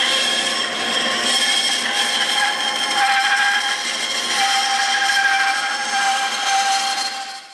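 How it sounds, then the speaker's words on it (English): A bandsaw cuts a decorative freehand edge on a wooden cutting board, a steady, fairly loud whining buzz that rises and falls slightly as the blade works, then winds down at the end. "Then we'll take it right over to the bandsaw, and we'll just cut a little bit of a decorative edge on it"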